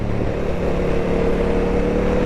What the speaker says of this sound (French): Après, on remet les gaz